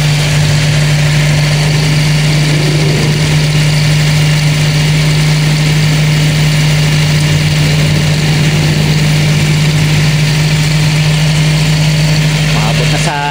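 A car engine idles steadily after a cold start, a loud, even mid-pitched hum holding throughout with no revving, and someone talks over it.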